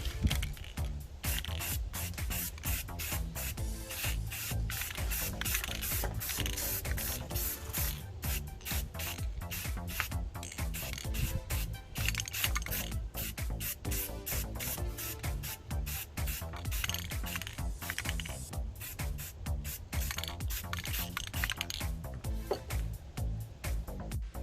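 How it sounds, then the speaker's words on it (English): Rust-Oleum spray paint hissing from an aerosol can in a paint booth, long steady spray bursts with quick rhythmic pauses, close and fairly quiet, continuing throughout. "I'm all set up here in my paint booth and ready to paint. This time I'm using this stuff here, Rust-Oleum."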